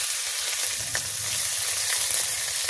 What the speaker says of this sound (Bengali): এখন দিয়ে দেবো সরিষার তেল, দিয়ে দিচ্ছি তেজপাতা, গোটা জিরে, পেঁয়াজ, রসুন, আদা,